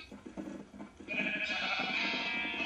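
Sheep bleating in the video game Minecraft, a loud sustained bleat rising after a second of quieter mixed sound, carrying to the end alone.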